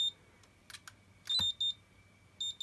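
A Sanwa RC radio transmitter gives short electronic beeps, a reminder that the carburetor choke is open, with a few soft clicks around them in a quiet room.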